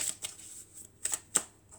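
A deck of oracle cards is shuffled in a few quick riffling bursts, close and fairly soft, separated by short pauses.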